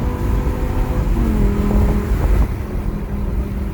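A Lamborghini Gallardo Final Edition driven hard, its engine a loud, close, continuous roar with rising revs under load, then easing slightly near the end.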